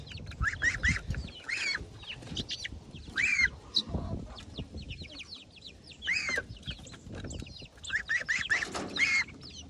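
Young pullet chickens cluck and squawk in busy, overlapping bursts while scrambling over grubs in a garden, close and lively, with occasional low background rustling.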